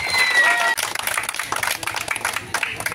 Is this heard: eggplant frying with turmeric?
no